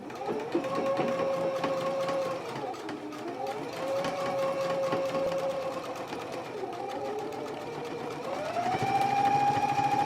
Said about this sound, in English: So let's go ahead and pin the other the same way and go ahead and stitch it now.